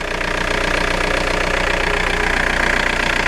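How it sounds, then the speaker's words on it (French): A Seat Ibiza 1.9 SDI diesel engine idles close by, a loud steady rhythmic clatter with a fast even knock, continuous and alone. "Donc vous voyez le bruit assez caractéristique du moteur. Donc c'est un bon gros diesel quoi"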